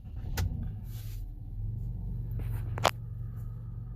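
A 2010 VW Routan minivan with a bad ECM and transmission trouble idles with a low, steady rumble up close, broken by a couple of sharp clicks and knocks.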